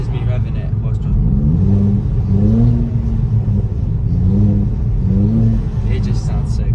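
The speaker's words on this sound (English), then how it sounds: "This is me revving it whilst driving." A Vauxhall Corsa with an aftermarket Fastlanestyling exhaust revs repeatedly while driving, rising and falling in pitch in a series of swells, with a deep, throaty exhaust note close by.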